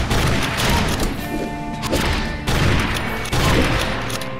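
Gunfire from the Secret Ponchos video game rattles in rapid, loud bursts with booming impacts, layered with game effects and music throughout.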